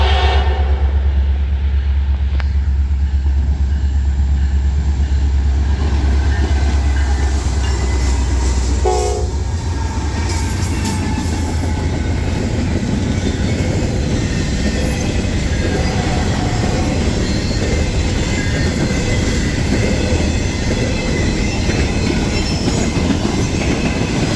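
Freight train led by a C40-8 locomotive with an SD6D and an AC44 trailing rumbles loudly past up close, with deep engine drone, clattering wheels and a brief horn sounding early on.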